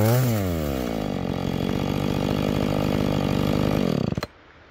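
A small 50cc chainsaw with a ripping chain mills a log into lumber, whining loudly and steadily under load before the engine drops away abruptly at the end of the cut.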